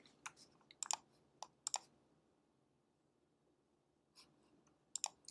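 Scattered keystrokes on a computer keyboard come in small bursts of sharp, quiet clicks with pauses between them, set against a near-silent room.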